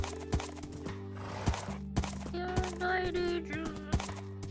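Hooves clop in a steady rhythm as a zombie horse in a video game lets out a long, wavering neigh partway through, with no talking.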